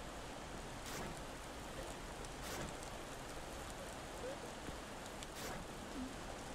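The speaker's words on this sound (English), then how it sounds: "Oh, it's raining." Rain falls steadily in the video game Zarvot, giving an even, faint hiss of drops that continues for the whole stretch with no clear pauses.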